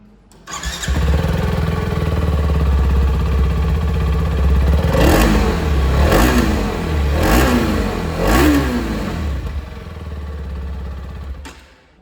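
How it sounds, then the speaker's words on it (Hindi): A 2026 TVS RTX 300 motorcycle with a dual exhaust starts up and idles loud and close, then its engine revs in four quick blips before settling back to idle and cutting off. "एक बार जो आवाज़ है वो भी एग्जॉस्ट साउंड की मैं आप लोगों को सुना दूँ।"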